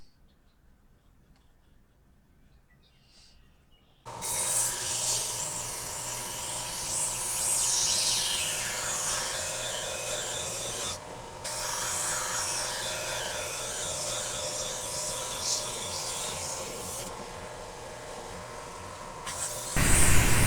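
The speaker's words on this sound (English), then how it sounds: "This is one of my favorite tools, the oscillating belt sander." An oscillating belt sander works wood in a boatbuilding shop, starting after a quiet few seconds and running as a steady, close rasping whir with slight shifts in pressure until the end.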